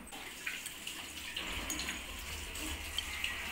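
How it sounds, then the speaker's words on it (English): Water runs steadily from a tap as a child washes hands at a sink, a soft continuous splash with faint spatters, heard fairly close and alone. "Laithya, can you please go and wash your hand?"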